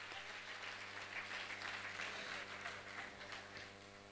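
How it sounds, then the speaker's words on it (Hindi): Audience applause at a Jain religious discourse gathering, a dense, even roar of many people clapping, fairly distant and reverberant, holding steady before easing slightly at the end. "जोरदार तालियां बजा दें"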